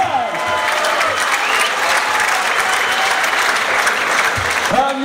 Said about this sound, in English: give a very special round of applause for four fantastic rounds of